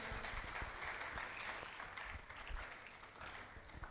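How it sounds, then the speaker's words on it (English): Steady applause from a crowd at a blockchain conference, many hands clapping continuously at moderate volume, heard from a short distance. "Keep clapping till he gets on the stage."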